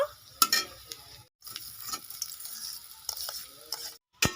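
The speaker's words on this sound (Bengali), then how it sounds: "আলুটাকে দিয়ে একটু ভালো করে নাড়াচাড়া করে নেব।" Boiled, roughly broken potatoes are stirred into frying onions in a pan, giving a quiet sizzle under repeated scraping and clinking spoon strokes, with a brief pause near the middle and another at the end.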